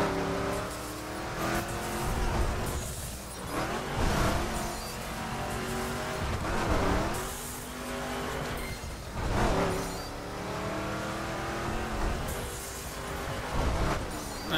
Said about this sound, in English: I haven't messed with the monster trucks enough to know if they all sound similar